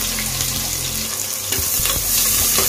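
Curry leaves and sliced onions hit hot oil already crackling with mustard seeds, giving a steady loud sizzle that swells partway through, with a low hum underneath and no talking.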